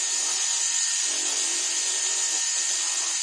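A size 006 round bur in a rotary drill carving a bead gives a steady, high-pitched whine that holds even and close throughout, with no pauses.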